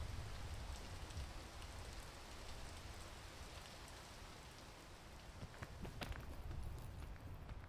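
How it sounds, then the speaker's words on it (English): Rain falls in the climbing video game PEAK as a soft, steady patter and hiss that carries on throughout, fairly faint, with a few sharper drops and no voices. "Please stop, rain."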